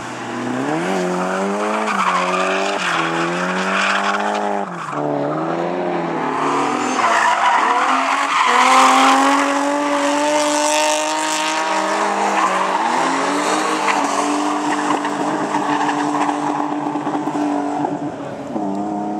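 Drift cars at a Crail drift day slide past with long, loud tire screeches over wailing engines, continuous and close throughout, while people chat faintly nearby.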